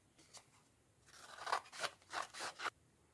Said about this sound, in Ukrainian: І розріжемо його по лінії згину.